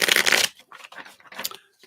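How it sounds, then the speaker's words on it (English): A deck of tarot cards being shuffled by hand indoors, a dense riffling burst followed by softer, scattered card flicks and taps close by. "And shuffle them up."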